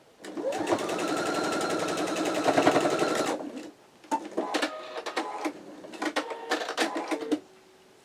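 A sewing machine runs in a fast, continuous stitching burst while joining flying geese quilt pieces, then stops and gives several shorter, choppy runs of stitching with brief pauses between them.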